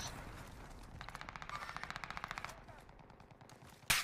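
Rapid bursts of automatic gunfire fire at the player in an online shooter match, a steady rattling volley for about a second and a half, followed by a sharp louder bang near the end.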